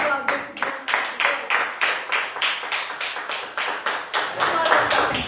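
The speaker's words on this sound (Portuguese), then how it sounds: "Vamos aplaudir esse Deus" A church congregation claps together in steady, even rhythm, dozens of hands striking at once in a full, close burst that carries on without pause.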